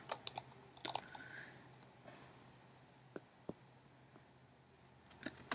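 Faint, scattered clicks and taps from a computer keyboard while code is typed into Xcode, coming in short irregular bursts with quiet gaps between them.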